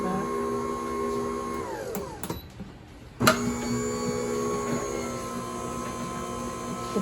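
A cheap Orfeld 1505 celery juicer runs in reverse with a steady motor drone and tonal whine, briefly stopping and dipping near the middle before restarting loudly and running on continuously.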